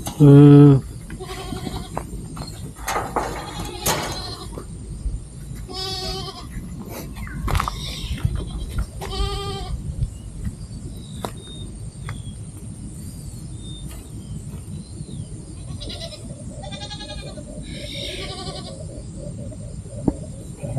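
Goats bleat repeatedly on a small-scale farm, short wavering calls rising near and far over a steady outdoor background, with some people talking nearby.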